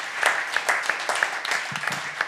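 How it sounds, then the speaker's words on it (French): A modest audience claps with distinct, uneven hand claps, fairly close, with a brief low voice murmuring underneath toward the end. "je vous demande de les applaudir"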